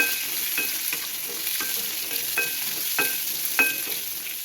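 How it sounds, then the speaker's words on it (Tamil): Onion and garlic sauté in a hot pan for a street-style masala puri, a steady close sizzle broken by regular scraping strokes of a spatula, with no talking. "வெங்காயம், வெள்ளைப்பூடு இதையும் நல்லா வதக்கிடுவோம்."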